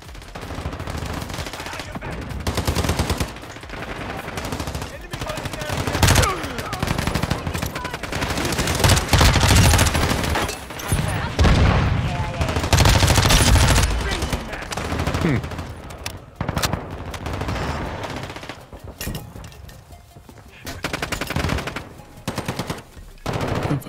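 Rapid, dense bursts of simulated gunfire from a decoy grenade in Call of Duty Modern Warfare 2, crackling loudly and continuously with uneven volume throughout.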